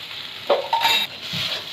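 A spoon stirs a spiced prawn mixture with turmeric, chili and cumin in a pan, giving a few close scrapes over a soft sizzle.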